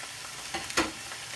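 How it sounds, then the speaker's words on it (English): Celery, courgette and red pepper stir-fry in a hot pan with a short burst of steady sizzling. One brief louder crackle sounds partway through. "need to stir fry these for about 4 to 5 minutes just to get some colour onto them"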